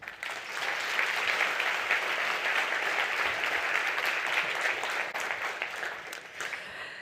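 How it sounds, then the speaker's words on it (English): Steady, dense applause from a conference audience at a food-industry annual event, rising quickly and holding loud and even for several seconds before thinning slightly at the end, with no talking over it. "A final round of applause."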